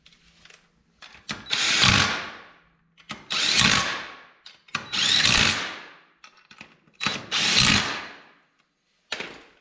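An impact or power driver tightens the front hub parts on a race car, firing in four loud, close bursts of roughly a second each, split by short pauses, with a fifth burst beginning at the end.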